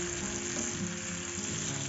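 Salted tofu blocks fry in a pan, giving a steady, fairly soft sizzle and crackle of hot oil throughout, with no talking.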